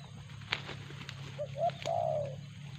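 A spotted dove (terkukur) coos with a few soft, low, rounded notes, the last one drawn out. It is fairly faint and close over a steady background hum, with one or two sharp clicks before it.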